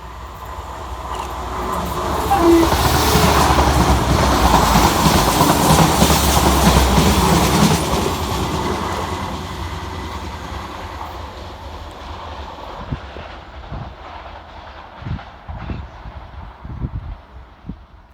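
A train rolls along rails, its rumble rising to a loud pass over several seconds, then fading into sparser, rhythmic clickety-clack wheel beats and thumps near the end, with no talk.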